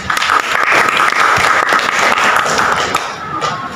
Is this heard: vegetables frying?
no